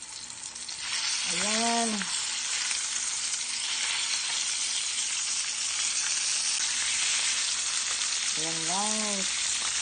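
Salmon fries in olive oil and butter with a loud, steady sizzle that fills the whole stretch, while someone speaks briefly twice over the crackle.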